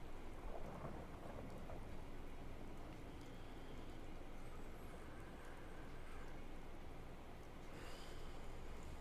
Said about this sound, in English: The rain is good.